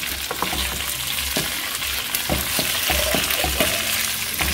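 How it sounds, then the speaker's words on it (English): Prawns sizzling in Filippo Berio olive oil for prawn 65, a steady hiss of frying broken by repeated knocks and scrapes as they are tossed in the pan, with no voices. "I'm going to be adding the prawns into this mix. Toss that really well."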